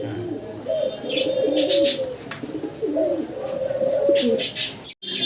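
Blue satinette pigeons, a breeding pair, coo in repeated low rolling phrases at close range, with faint higher chirps from other birds behind them.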